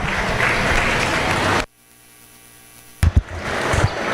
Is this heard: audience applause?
yes